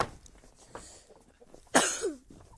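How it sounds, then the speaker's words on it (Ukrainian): A single harsh cough breaks out after a stretch of faint background noise, fairly close and loud against the quiet. "Трохи кашля."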